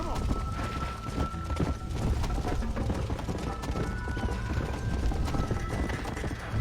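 Hooves clip-clop at a steady gallop as a horse runs in the Red Dead Redemption video game, with a whinny and faint talk over the continuous rhythmic pounding.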